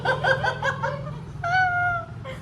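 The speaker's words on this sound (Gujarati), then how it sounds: "જો તો બિલાડી એ બિલાડી" A cat meows inside a family home, close and clear: a run of quick, choppy meows, then a longer drawn-out call, then a short final cry.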